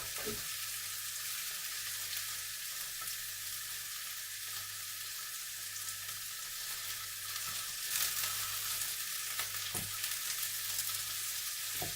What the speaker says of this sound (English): we're getting all nicely browned off on those now